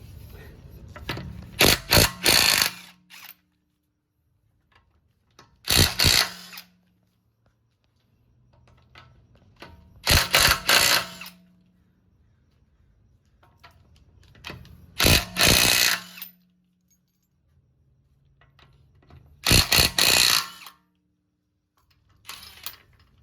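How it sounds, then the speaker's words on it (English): An impact gun loosens the lug nuts on a raised 2023 Tesla Model Y. It fires in five loud rattling bursts of a second or two each, separated by quiet pauses, and no one speaks over it. "you have a impact gun, because this is very powerful. It can loosen all of these lug nuts when it's in the air."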